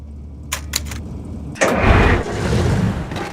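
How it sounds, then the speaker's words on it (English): Frontier Light Tank engine starting in the video game Battalion Wars: a couple of mechanical clicks, then a sudden rough burst as the engine catches, settling into a steady mid-pitched idle, close and alone. "To start the engine, insert this key into this keyhole and turn it while pressing this button."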